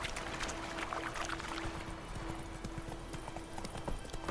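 Horse hooves clip-clopping steadily along a road in The Witcher 3 video game, a quick even rhythm of close, moderately loud hoofbeats with faint background ambience.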